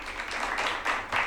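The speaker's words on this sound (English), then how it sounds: "Weak applause" Weak applause: a brief, thin patter of a few hands clapping, faint and uneven for just over a second.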